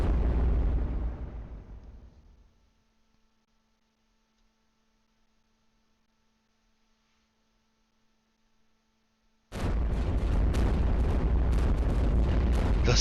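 In the game iBomber Defense, a deep, booming explosion fades away into a quiet hum, then a dense barrage of loud blasts and cannon fire bursts in and continues.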